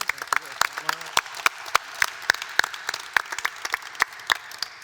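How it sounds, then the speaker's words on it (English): An audience at an entrepreneurs' panel on building the Black economy gives a round of applause for the speakers: scattered, crisp claps from a modest crowd in a steady patter, with a voice talking briefly near the start. "another big round of applause for our speakers"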